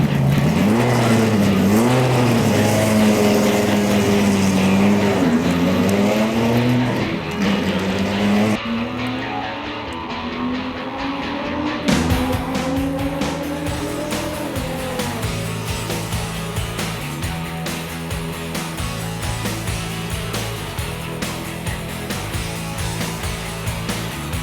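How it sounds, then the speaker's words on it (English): An 8-litre V10 two-seater Grand Touring coupe, rated at 615 horsepower, drives a lap with its engine loud and close throughout, pitch rising and falling as it accelerates and eases off through the gears. "this 2-seater Grand Touring Coupe gives. The 8-litre V10 engine produces a stupendous 615 horsepower"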